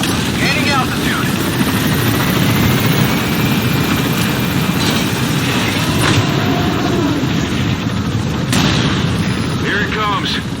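Helicopter flying in Metal Gear Solid V, a loud, steady rotor and engine roar running the whole time, with voices talking over it.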